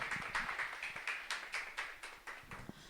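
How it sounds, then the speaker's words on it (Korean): A small lecture audience gives moderate, fairly quiet applause to welcome an architect speaker, a steady patter of claps fading slightly over three seconds. "박수로 맞아주세요."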